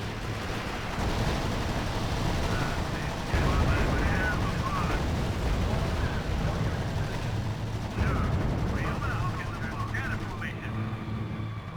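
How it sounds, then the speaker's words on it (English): Dense rumbling gunfire and explosions roll on in a R.U.S.E. wartime strategy battle, heavy and continuous, with a radio-style voice talking over the combat. "Unit under sustained fire."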